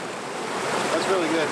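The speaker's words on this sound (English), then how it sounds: "We got some white water, some filtered water." White water rushes down a mountain stream fed by a natural spring, a steady close broadband roar with no break.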